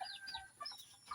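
Pet chickens clucking faintly in a few short, scattered clucks, with no talk over them.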